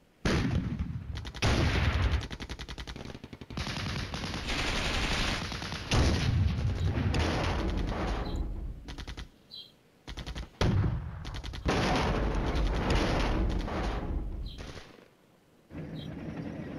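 Heavy gunfire aimed at tanks in a battle, with long bursts of rapid automatic fire and loud booming shots separated by short pauses, close and loud throughout with no talk.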